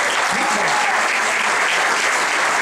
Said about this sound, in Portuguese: gostaria de pedir uma salva de palmas, porque o nível foi muito alto esse ano